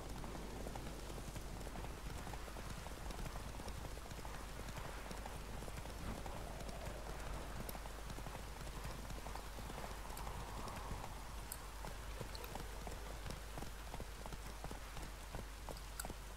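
A horse galloping through rain in The Witcher 3, its hooves pounding in a fast steady clip-clop for the whole stretch, under a constant hiss of rainfall, close and loud, with no talk.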